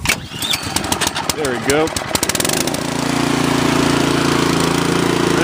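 A Sears Craftsman snowblower engine on choke is pulled over with a rattling recoil, catches and settles into a steady, loud running drone, with a brief spoken remark near the start.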